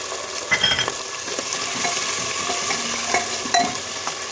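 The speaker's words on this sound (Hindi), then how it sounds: "प्याज डालने के बाद हम डालेंगे आलू। हम डाल देंगे कटे हुए टमाटर।" Potatoes and chopped tomatoes dropped into onions frying in a pan, a steady close sizzle with scraping stirs and occasional light clinks of a utensil.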